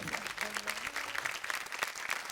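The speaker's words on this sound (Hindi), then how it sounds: "हम दिल से ताली बजौनी।" Loud, steady applause fills the studio at a Bhojpuri folk-music reality show grand finale, clapping for a singer's performance with a dense, continuous patter from start to end.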